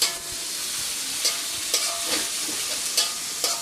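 Boiled, softened banana stem sizzles steadily in a frying pan while a utensil stirs it, giving a constant bright hiss with soft scraping strokes recurring at a relaxed pace, close up and with no talking.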